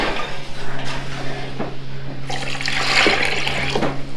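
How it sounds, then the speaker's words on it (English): Water being poured into pots of natural dye stuff to cover the material, a steady continuous splashing pour that swells louder toward the end, with faint clinks of pots. "you will add water enough to cover the material with about an inch over top"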